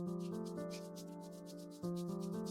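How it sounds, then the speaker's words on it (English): Palms rub together steadily in a quiet face yoga routine, a soft continuous friction under a sustained musical drone, with a brief break and renewed rubbing near the end. "Bring your palms together and start rubbing."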